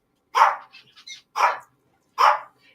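Three sharp, close dog barks spaced about a second apart, each loud and clear against silence, with faint softer sounds between.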